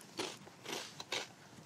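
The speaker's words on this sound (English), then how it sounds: "I love crunchy chips." Crunchy chips bitten and chewed close up, three sharp crunches in quick succession, fairly quiet and with no voices.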